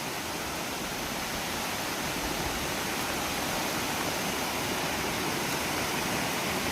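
A flooded river in Konkan, rushing water making a dense, loud, unbroken roar with no pauses and no voices.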